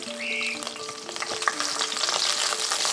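Cut green chillies frying in hot oil, a loud, steady close sizzle with crackling pops and spluttering throughout, no voices.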